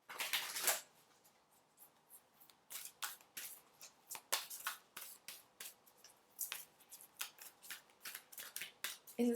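Oracle cards shuffled by hand during a tarot-style reading, a steady run of soft, quick riffling and snapping clicks, close and fairly quiet with no talking.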